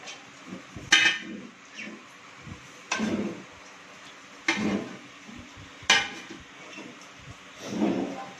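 Pastry brush spreading oil across a baking pan and up its sides for an Egyptian omelette, giving soft brushing scrapes with a few sharper clinks of the tray, close and fairly quiet.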